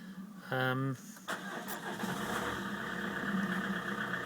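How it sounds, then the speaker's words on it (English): A 2006 Peugeot 407 2.0 HDi diesel engine cranks briefly, catches, and settles into a steady idle, with faint talk in the background. "there's the car started."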